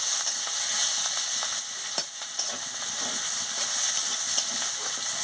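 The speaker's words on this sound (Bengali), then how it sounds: "পেঁয়াজ কুচি দিয়ে দিচ্ছি, দিয়ে আমি ভালো করে ভেজে নিচ্ছি।" Chopped onions with five-spice seasoning frying in a pan for a fish and vegetable curry, giving a steady close hiss and sizzle with a few faint stirring scrapes and no voices.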